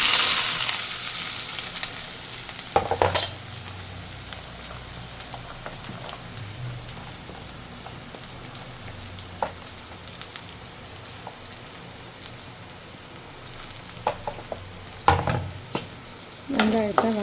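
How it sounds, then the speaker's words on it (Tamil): Chopped onions sautéing in a pan after mustard seeds have popped, a steady soft sizzle with a few sharp scraping stirs of a spoon near the start and end. "வெங்காயத்தை வதக்கிட்டேன். என்ன பெருசாக போட்டுக்கிறேன். வெங்காயம் நல்லா வதங்கட்டும்."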